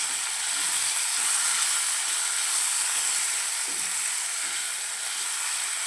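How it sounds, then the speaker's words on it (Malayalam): Tomato sautéing in a pan for a roasted-coconut soursop curry, a steady, even hiss of frying that holds at constant loudness throughout. "എന്നിട്ടൊന്ന് വഴറ്റി കൊടുക്കാം."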